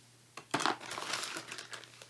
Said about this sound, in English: plastic bag of pens, Sharpies, dry erase markers, anything that I need to write with